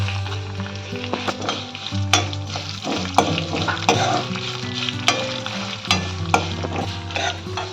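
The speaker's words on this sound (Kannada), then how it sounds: "ಈಗ 2 ಚಮಚ ಸಾಸಿವೆಯನ್ನ ಹಾಕ್ತಾ ಇದ್ದೀನಿ" Cumin and mustard seeds fry in hot oil for a traditional Dhanamaddi khichdi, giving a steady, close crackling sizzle broken by occasional sharp clinks of stirring against the pan.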